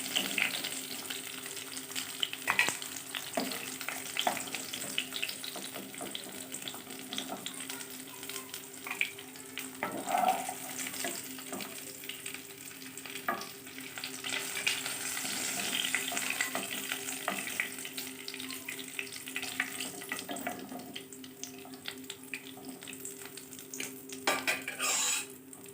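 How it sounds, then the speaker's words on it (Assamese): Fish pieces fry in hot oil for an Assamese coconut fish curry, giving a steady close sizzle for a long stretch, with occasional clinks of a utensil against the pan. "মোৰ মাছখিনি ভাজি গৈছে"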